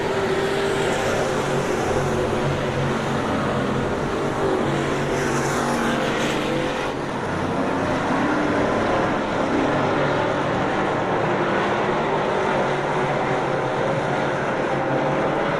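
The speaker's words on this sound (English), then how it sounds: "The car sounds good" Street stock race cars roar around an oval raceway during a heat, a dense, continuous engine drone from several cars that swells slightly as they pass, with no voices heard.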